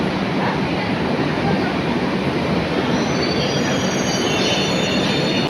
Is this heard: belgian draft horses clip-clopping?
no